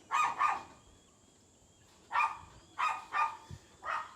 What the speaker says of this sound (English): That's the local rat bag dog coming to terrorise my dogs